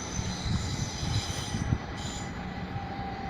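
A Class 377 electric train rolls through Clapham Junction with a steady rumble of wheels on rail, rhythmic clatter and a thin high squeal over the top, heard alone at moderate volume.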